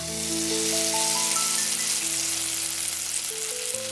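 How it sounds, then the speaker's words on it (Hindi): Steady, loud frying sizzle of samosas in a small kitchen fills the whole clip, with soft musical tones layered underneath. "उस रात रामू अपने छोटे से किचन में अगली सुबह के समोसे की तैयारी कर रहा था"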